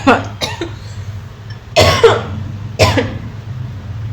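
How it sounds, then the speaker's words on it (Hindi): Several harsh coughs from a sore throat close to the mic, spaced a second or so apart, with a throat-clearing sound among them. "गला ख़राब है तो इसलिए खांसी ज़्यादा आ रही है"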